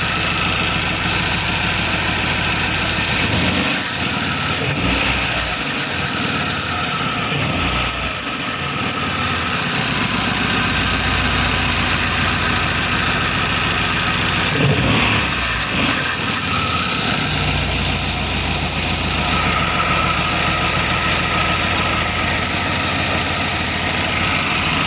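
A 2001 Toyota Camry engine with a pod filter air intake idles steadily and loudly, its constant broadband drone broken by a few brief irregular bumps.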